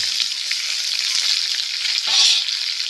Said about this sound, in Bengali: পেঁয়াজটা ভাজা হয়ে গেছে এবার দিয়ে দেবো টমেটো কুচি আর ধনিয়া কুচি